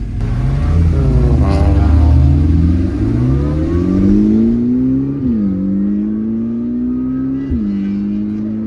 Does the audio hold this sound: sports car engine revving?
yes